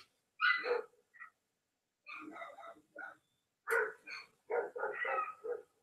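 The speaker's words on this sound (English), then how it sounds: "There's a visiting dog outside that has come onto the property." A visiting dog or coyote barks outside on a property, sharp repeated bursts in uneven clusters with short yips and whimpering tones, moderately distant against otherwise quiet surroundings.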